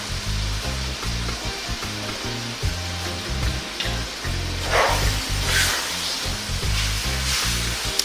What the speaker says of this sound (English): To that, I'm going to add 1 cup of fresh tomato. And we're going to cook that for about 8 or 9 minutes.